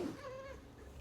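A house cat gives a single drawn-out meow, close and clear, with no voices around it.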